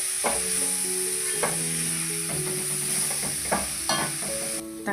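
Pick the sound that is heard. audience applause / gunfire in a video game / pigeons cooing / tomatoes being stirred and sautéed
tomatoes being stirred and sautéed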